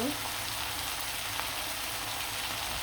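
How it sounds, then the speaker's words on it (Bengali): Pieces of broiler chicken fry in hot oil with a loud, even crackling sizzle that holds steady from start to finish, with no voice over it. "সবগুলো মাংস উঠিয়ে দিলাম লাল লাল করে অপর পিসটা দিয়েও ভেজে নিব"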